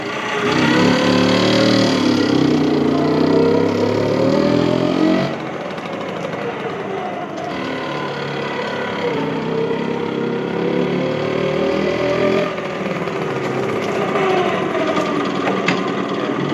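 A freshly rebuilt Vespa scooter engine being ridden back and forth, a steady mid-pitched motor drone that rises and falls with throttle, loud and close throughout with a brief dip partway.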